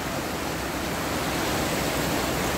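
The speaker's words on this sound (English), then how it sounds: "Waterfall number two." Waterfall on Lynn Creek, running high, roaring as a steady, dense broadband rush of falling water, close and unbroken throughout with no voices.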